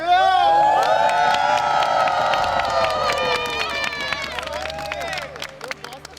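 Excited studio audience at a live game event cheering, whooping and shouting together, a loud dense crowd roar with high-pitched screams and scattered claps that gradually tapers off.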